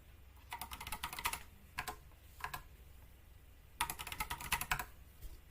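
A computer keyboard clacks in two quick bursts of typing as a password is entered, close and crisp with a pause between, and no talking.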